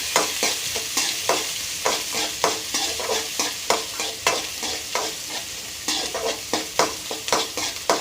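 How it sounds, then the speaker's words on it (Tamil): Sliced onion, urad dal and dried red chillies fry in a pan while being stirred, rhythmic spoon scrapes repeating about twice a second over a close, steady sizzle. "நல்லா வதக்கிக்கோங்க."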